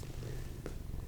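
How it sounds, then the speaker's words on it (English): A cat purrs softly and steadily, a low continuous rumble held close and quiet throughout the short moment. "Is he still purring, or did he stop purring?"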